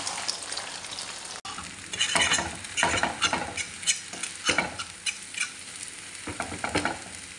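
Egg is scrambled in hot oil in a pan for chicken vegetable fried rice: a constant loud sizzle broken by repeated scraping strokes of a spatula against the pan, close up and without voices.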